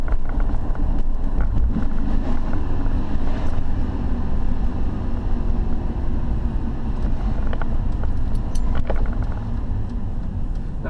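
A 2002 Dodge Dakota pickup with a worn clutch, driven with its engine worked hard, gives a steady, loud roar mixed with heavy wind buffeting on the microphone, without a break.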